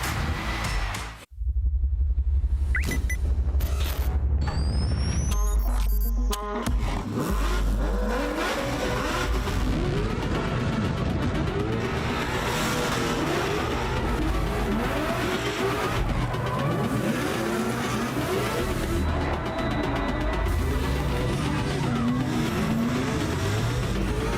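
Twin-turbo drift car at a Formula Drift event, its engine revving hard and loud throughout with bouncing throttle, tire squeal and skidding, and a brief dip near the start before sustained full-power running.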